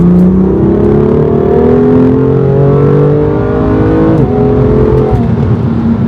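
BMW M2 F87 Competition with S55 engine and midpipe pulling hard in third gear: a loud, continuous engine roar rising steadily in pitch, with a brief dip near the four-second mark, then climbing again to the end.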